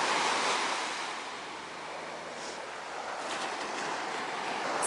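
Surf at Pompano Beach, Florida washes ashore in a steady broadband roar, waves swelling and receding over a few seconds, with faint wind buffeting the microphone and no voices.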